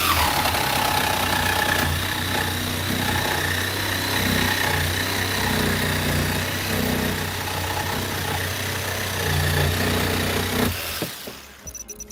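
A Ryobi 18V One+ orbital jigsaw P5231 set on orbital setting 2 cuts steadily with a loud, buzzing, rapidly pulsing motor sound that stops near the end.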